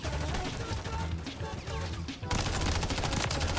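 Rapid gunfire from a modern military shooter game, dense automatic bursts and volleys filling the mix loudly throughout, with a sharp cut partway into an even louder stretch of shooting.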